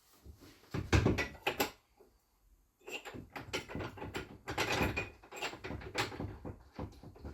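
A hand tool tightens the mounting bolts on a UTV sound bar, an Ehaho 34-inch RGB unit, making faint, quiet ratcheting and mechanical clicks in short irregular runs with brief pauses between them.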